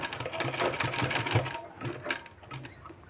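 A sewing machine stitches kurta fabric with a fast, continuous mechanical chatter that pulses steadily. It is close and clear, with no talk over it.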